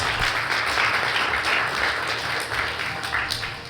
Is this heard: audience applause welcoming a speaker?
yes